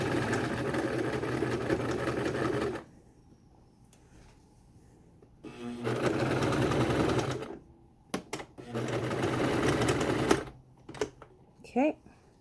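A sewing machine stitches along the edge of a fabric mask up to a seam in loud, steady bursts of motor whir, with short pauses between runs.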